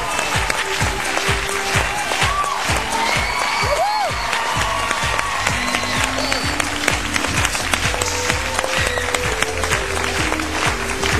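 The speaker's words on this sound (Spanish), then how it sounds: "Fuerte aplauso," Studio audience on a television variety show breaks into loud, sustained applause with scattered cheers and whoops, steady clapping filling the whole stretch while a host's voice and music sit faintly underneath.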